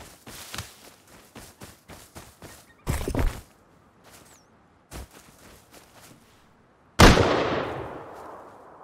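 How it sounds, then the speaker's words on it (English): Gunfire in the video game Rust, with a sharp loud blast near three seconds and another ringing blast near seven seconds that decays slowly, among quieter clicks and footsteps. "Shotgun or something."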